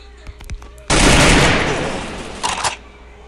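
A sudden loud burst of video game gunfire erupts and rings out with a long decaying tail, followed by a couple of quieter clattering shots; faint voices murmur beforehand.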